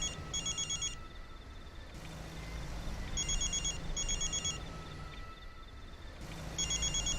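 A telephone rings in repeated bursts of bright electronic trills separated by short pauses, quiet against a low background hum, with no one speaking.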